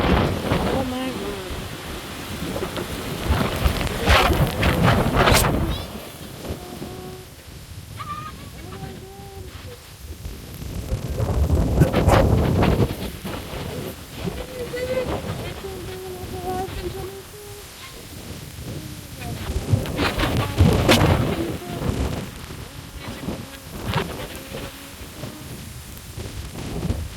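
Hurricane Beryl striking Windsor Heights, St. Catherine, Jamaica: strong wind roaring in recurring gusts with rain and buffeting microphone noise, loud and close, with people speaking intermittently.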